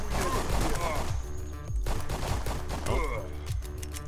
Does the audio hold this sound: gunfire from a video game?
yes